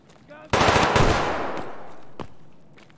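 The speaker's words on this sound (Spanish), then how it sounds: "Es un rider disparando" In a video game raid, a rider fires a machine gun in one rapid, loud burst of closely spaced shots, and the echo trails off. A faint voice is briefly audible nearby.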